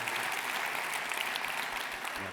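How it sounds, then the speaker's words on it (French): An audience at a New Year's wishes ceremony applauds sixteen-year-old swimmer Nabil, a steady, dense wash of many hands clapping at an even level throughout. "Et puis, Nabil, on peut l'applaudir"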